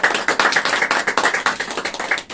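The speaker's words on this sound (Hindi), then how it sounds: "ताली मारना चाहता है?" A church congregation claps hands together in a steady, rhythmic beat, loud and close, with the room full of sharp, repeated slaps and no voices over it.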